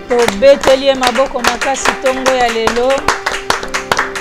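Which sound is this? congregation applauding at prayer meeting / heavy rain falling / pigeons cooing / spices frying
congregation applauding at prayer meeting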